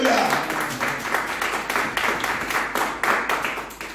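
A church congregation applauding in praise of the Lord, a dense, steady wash of many hands clapping with a loosely rhythmic pulse, close and loud, with voices faintly underneath.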